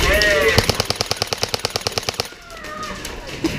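Rapid bursts of airsoft gunfire crackle in a steady run of about twenty sharp shots, close and loud, stopping abruptly before one last pop; voices are heard around the shooting.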